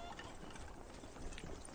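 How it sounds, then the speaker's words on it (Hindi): Horse hooves clip-clop quickly at a middle distance in a faint, busy outdoor film scene, with a brief whinny and murmuring voices underneath. "एक सुल्तान के लायक यही वो बेहतरीन घोड़ा है।"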